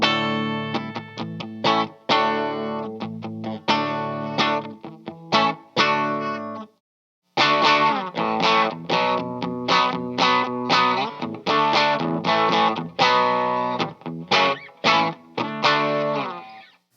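A Kay Barney Kessel Pro K1700V hollow body electric guitar played at its brightest treble setting through effects, with strummed and picked jazzy chords in a rhythmic phrase, a brief pause, then more chords, loud and close.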